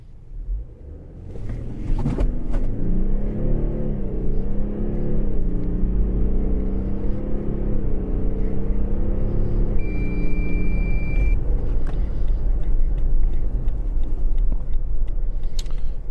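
A Lexus LX rolls downhill with a steady, loud engine rumble and a gently wavering tone, continuous for about fifteen seconds, with no talking.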